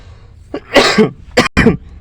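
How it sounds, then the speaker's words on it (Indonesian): A few harsh coughs, close by: a short one, then a longer hack, then two quick coughs in succession. "batuk."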